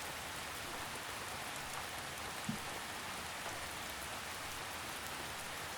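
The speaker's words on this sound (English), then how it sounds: "As you listen to the rain," Gentle drizzle falls in a soft, steady patter of raindrops on a surface, quiet and even throughout with one faint tap near the middle.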